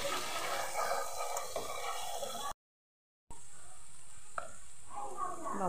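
Ground chilli, coriander, cumin and turmeric powders sizzling in hot oil in a pan, a soft steady frying hiss broken by a brief gap, with faint stirring.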